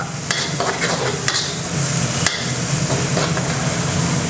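Shrimp go into a hot wok of mixed-meat Thai holy basil stir-fry, bringing a steady frying sizzle with a few sharp clinks and scrapes of the spatula against the pan, close and continuous, no voices.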